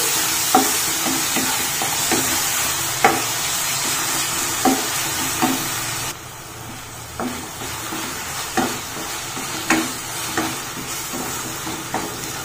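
Garlic paste and masala frying for an Odisha-style mutton curry, a steady close sizzle broken by regular scrapes of a stirring spoon against the pan, with no voices.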